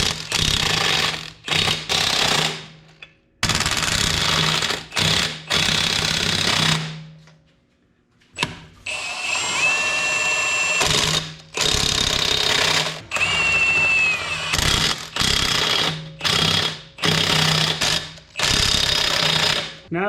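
Impact wrench tightening wheel hardware on a lifted 6.7L Powerstroke diesel truck on Forgiato wheels: loud, rattling hammering bursts of varying length, repeated over and over with short silent gaps between, no speech.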